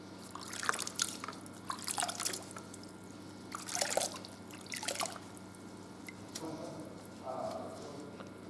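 Water drips and splashes irregularly while old yellowed car headlights are being restored, arriving as scattered short bursts over a low steady background hum.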